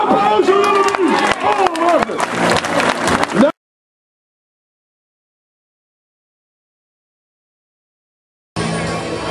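A crowd at a strongwoman competition in Friesland cheers and claps loudly for a competitor, under an announcer's excited voice, then cuts to silence before the noise returns.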